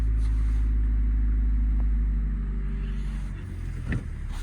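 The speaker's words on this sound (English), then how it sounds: "Engine sounds really good." A steady low engine drone comes from a Ford Transit refrigerated van running close by. It idles evenly, then eases slightly quieter near the end, with a brief knock and no talk.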